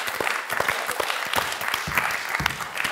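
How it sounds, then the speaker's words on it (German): A short, continuous burst of audience applause from a crowd at a German comedy storytelling stage show, steady clapping with no talk over it. "Ich habe Applaus bekommen"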